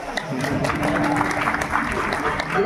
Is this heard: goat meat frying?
no